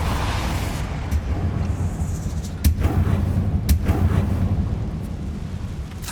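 Spell blasts and booming impacts in the Hogwarts Legacy video game, including a Confringo blasting spell, sounding as two or three muffled explosive thuds over a constant low rumbling game background.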